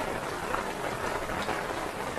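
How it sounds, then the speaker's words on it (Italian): Rain falls steadily outdoors during a van road trip through the Pyrenees, a dense even hiss of drops with no pauses and no talk. "Piove!"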